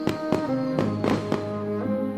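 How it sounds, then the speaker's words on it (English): Fourth of July fireworks burst in a quick irregular series of about six sharp cracks and pops over a low background hum, heard moderately distant. "Fireworks bursting in the air throughout the nation tonight as Americans celebrate the 4th of July"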